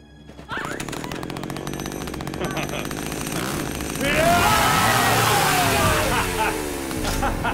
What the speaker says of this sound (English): my trademark signature patent pending gas-powered two-cycle 20-inch chainsaw